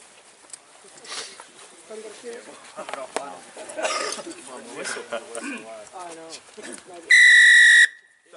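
A plastic wide-mouth whistle gives one loud, short, piercing blast near the end, after a stretch of people talking.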